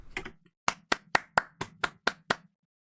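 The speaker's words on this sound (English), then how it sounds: "Round of applause." About nine sharp, separate claps from a single person in a slow, fairly regular rhythm, close and clear against a quiet background, with a brief rattle of faster clapping at the start.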